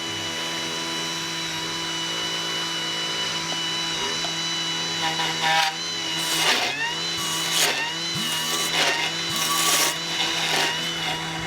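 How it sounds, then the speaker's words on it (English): A blender whirs steadily at high speed while oil is added for an aioli-style emulsion, with a constant motor hum and shifting whine as the mixture thickens, rising slightly louder in the second half. "So into our blender, turn the little thing on."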